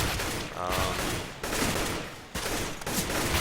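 Dense, continuous gunfire from Counter-Strike: Global Offensive crackles loudly throughout, with rapid overlapping shots and bursts of game combat audio.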